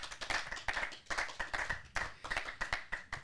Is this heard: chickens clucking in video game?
no